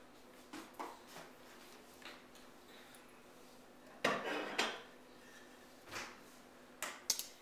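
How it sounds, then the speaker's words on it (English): A mixing bowl is taken out and set down in a home kitchen while making banana bread, giving several separate clinks and knocks of dishware, some sharp and close, spread across a quiet room with no talk. "I'm going to get another bowl out"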